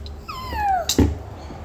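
A kitten gives one clear, close meow that slides downward in pitch, followed by a short thump and faint background noise, with no talking.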